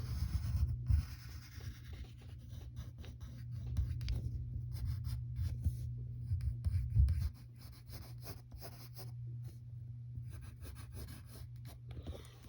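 A pencil scratches across paper drawing a cartoon ear of the Brain from Pinky and the Brain, steady close scribbling strokes over a low background hum, with no talking.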